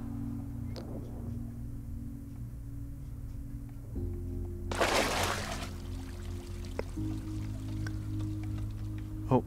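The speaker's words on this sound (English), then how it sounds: "waterfall." A waterfall in the video game Gris rushes softly under a sustained low musical drone, with a brief brighter splash of water midway and faint trickling drops scattered throughout.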